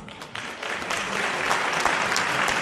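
A crowd at the Asahi Yosakoi festival claps hands in a dense, continuous, fairly loud patter, with no voices standing out.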